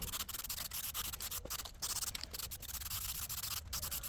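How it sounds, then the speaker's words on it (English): Light hand sanding with 320-grit sandpaper to smooth imperfections on a Mercedes-Benz C200 part, a steady, soft, close rasping rub with slight rhythmic strokes and no voices. "using a bit of 320, I'm giving it a really light sand to just get at the imperfections"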